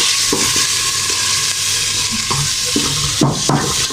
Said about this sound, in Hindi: तो ये देखिए अभी मसाला भून रहे हैं।